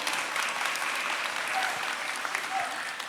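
Audience applause at a Sewol ferry memorial gathering in Ulsan, a soft, even wash of many hands clapping from some distance, steady for the whole stretch.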